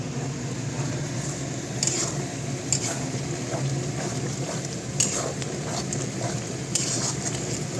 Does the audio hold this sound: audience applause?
no